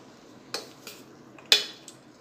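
Mango pickle mixed with spice masala in a vessel, heard as a few sharp clinks and scrapes of a spoon against the pot, spaced irregularly against a quiet background.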